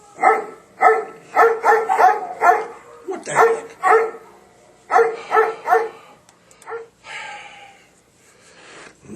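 Dogs bark in a studio as a played sound effect, a loud series of sharp barks in quick bursts with yips and a whimper, followed by a brief exclamation from a man.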